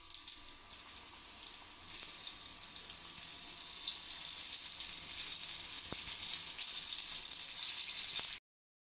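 Methi gota fritters (bhaji) dropped into hot oil sizzle and crackle in a steady, dense hiss that holds close and fairly loud throughout, then cuts off abruptly at the end.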